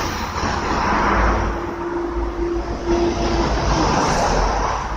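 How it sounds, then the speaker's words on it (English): Out-of-service Matrix buses pull up behind on a road, giving a loud, steady engine rumble with a faint tonal whine that holds throughout. "Two Matrix out of service buses pulling up behind"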